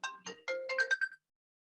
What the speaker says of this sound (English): Let me turn off my phone. Unknown caller.